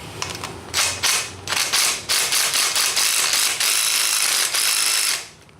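A 5mm ratchet loosening an axle pinch bolt during a rear suspension teardown: repeated bursts of rapid clicking from the pawl, close and fairly loud, with short pauses between strokes and no talking.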